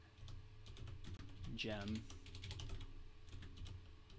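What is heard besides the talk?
typing a command on a computer keyboard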